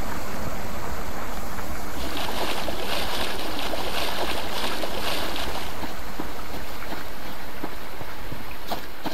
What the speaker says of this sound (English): Sometimes that river sounds just like bees buzzing.